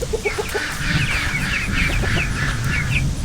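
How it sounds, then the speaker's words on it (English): A duck quacks in the background amid a steady stream of high peeping chirps from well-feathered young birds in a brooder, with a few lower calls early and a constant low rumble underneath. "you can hear the duck in the background laughing at me"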